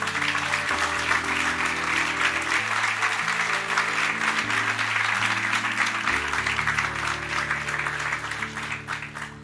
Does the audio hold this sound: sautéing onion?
no